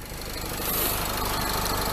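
Ford Transit MK7 2.4 RWD diesel engine with a knocking fault, a loud, steady close-up mechanical clatter that grows slightly louder midway and carries on throughout with no talking.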